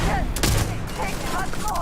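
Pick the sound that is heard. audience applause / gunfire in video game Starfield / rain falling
gunfire in video game Starfield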